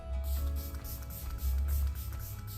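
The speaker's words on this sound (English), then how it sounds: "setting spray." A steady hissing spray from an aerosol bottle fills the clip, continuous and close, with slight pulses in intensity and no voices.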